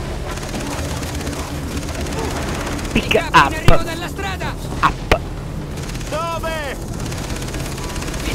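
Several sharp gunshots crack in quick bursts amid game-like background noise in the video game Far Cry 3, with a voice speaking briefly in Italian.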